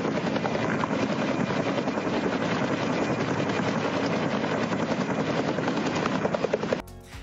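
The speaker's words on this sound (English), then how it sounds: "This helicopter pilot picking up water from a private pool" A helicopter hovers low over a private swimming pool to pick up water, its loud, steady rotor thump and engine roar filling the whole recording before cutting off abruptly near the end.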